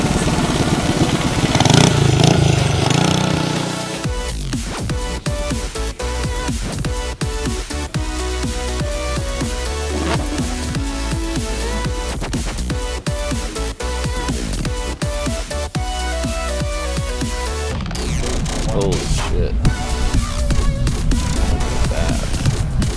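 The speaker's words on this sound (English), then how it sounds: "That's a freaking go-kart, dude." A go-kart engine at a racetrack drones loudly and close, its buzzing note rising and falling as the kart drives past, with no talk over it.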